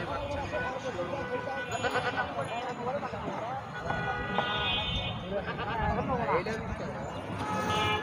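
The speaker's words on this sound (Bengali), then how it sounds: "এগুলো তোমার ছাগল?" Goats bleat repeatedly in harmonic calls at a busy livestock market for sacrificial animals, close by and fairly loud over constant crowd chatter and background noise.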